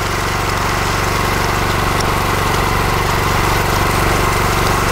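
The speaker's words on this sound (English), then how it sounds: "Here it's a little wetter, so I'm going to slow down the trowel machine." A concrete power trowel machine runs steadily at close range on wet concrete, with a loud, even engine drone and constant rumbling vibration, and no voices.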